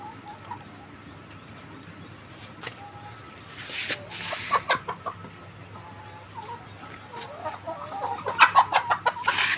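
Paralysed layer hens give soft, scattered clucks, with brief louder bursts of clucking near the end over a quiet background; a person speaks intermittently.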